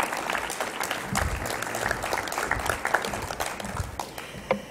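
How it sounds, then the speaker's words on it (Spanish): Audience at a congress opening ceremony applauds with a dense, steady patter of many hands, fairly close, with no talking over it. "Un aplauso para él"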